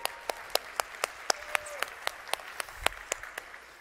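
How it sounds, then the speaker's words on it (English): Audience at a DevOps industry keynote applauding in faint, sparse claps that land in an even rhythm, with several distinct hand claps spaced across a few seconds. "So big round of applause for those people."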